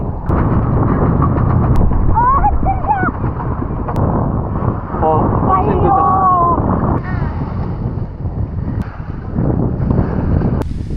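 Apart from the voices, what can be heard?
strong wind on a lake while boating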